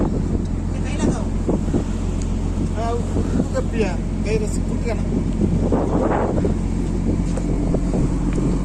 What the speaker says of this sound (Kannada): ಇಲ್ಲೊಂದು ಬೋಟ್ ಬರ್ತಾ ಇದೆ